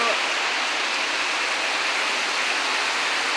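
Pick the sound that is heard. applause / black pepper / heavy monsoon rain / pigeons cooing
heavy monsoon rain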